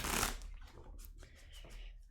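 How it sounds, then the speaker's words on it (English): A deck of tarot cards being shuffled, a brief riffle burst followed by softer quiet flutters and ruffles, close and faint, with no voices. "That is a good shuffle right there."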